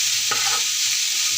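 Chopped onions fry in a hot pan for a gram-flour bread roast, giving a continuous close sizzle with a single scrape of stirring near the start.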